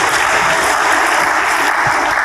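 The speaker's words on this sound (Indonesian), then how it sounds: "Berikan tepuk tangan hebat bagi dia." A church congregation bursts into loud, dense applause that holds steady throughout, close and without talk on top.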